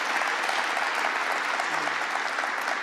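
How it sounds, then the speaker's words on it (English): Audience applause fills a clean energy event hosted by New York Governor Kathy Hochul on Long Island, a steady, dense wash of clapping at even loudness throughout with no voices on top. "So let's make sure we give a round of applause for Maureen as well."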